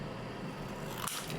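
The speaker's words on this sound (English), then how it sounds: "So I'll just cut that." Scissors snip through a cardboard Pocky box near the end of a short stretch of steady room hiss, a single close cut.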